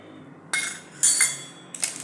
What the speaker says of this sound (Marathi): आता हे सगळं मिक्स करायचं आहे आपल्याला